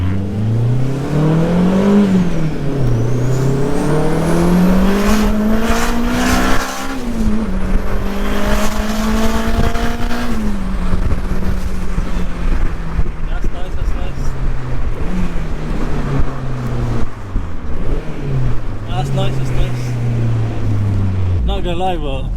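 A boosted, turbocharged four-door Honda Civic accelerating hard, the engine climbing loudly through several gears with rising pitch and a brief drop at each shift, heard from inside the car over a constant roar, with people talking now and then.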